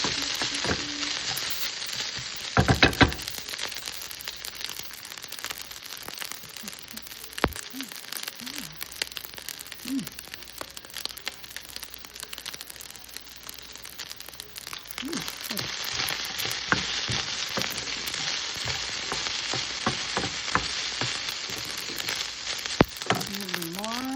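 Fried rice stirred in a hot pan, a loud, continuous sizzle with scraping spatula strokes and crackles, close up and steady throughout.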